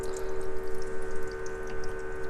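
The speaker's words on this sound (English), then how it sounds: "So you can hear the pump running right now, and that's filling the tray with water." Water pump in a van fridge runs steadily, filling the ice maker tray with water, with some water spilling over the top and flowing back down; a continuous close hum with a faint watery wash.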